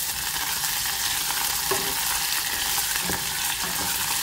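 Curry leaves, garlic and chili sizzling in hot oil, a loud, dense, continuous crackling hiss close up, with a couple of faint clinks underneath and no voices.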